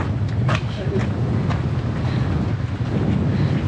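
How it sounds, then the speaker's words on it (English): Strong wind roars and buffets the microphone continuously during the Mammutmarsch long-distance walk near Berlin, with faint voices mixed into the gusty noise. "It's very windy"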